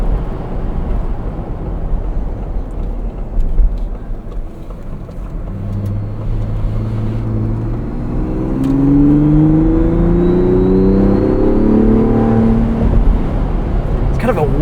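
A Ford Bronco Raptor's engine accelerates, a steady drone giving way to rising, layered whining tones that climb in pitch and grow louder as speed builds, loud and close.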